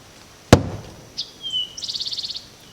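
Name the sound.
hammering with the magic hammer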